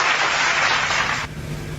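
Audience applause at a debate, a dense wash of clapping that fills the room for over a second and then cuts off abruptly, leaving quieter background.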